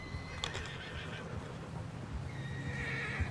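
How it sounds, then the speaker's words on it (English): In Red Dead Redemption 2, soft hoofbeats crunch over snow, with a horse whinnying early on; the steady clopping continues faintly throughout. "I like the effects of the horse hooves in the snow."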